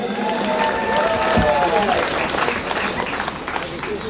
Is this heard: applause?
yes